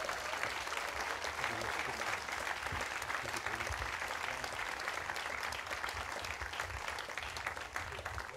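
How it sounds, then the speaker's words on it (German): Steady, dense applause from a concert audience honoring the accompanying musicians at an outdoor classical-meets-jazz birthday concert, continuous and even throughout at a moderate level. "Applaus für meine Begleitmusiker."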